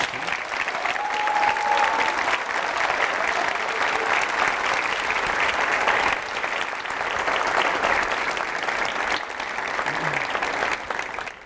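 A crowd claps steadily and loudly for several seconds, with a voice briefly rising above the applause.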